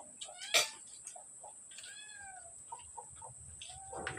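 A cat gives a few short meows and a rising, drawn-out call, fairly faint against a high electronic whine and a sharp knock.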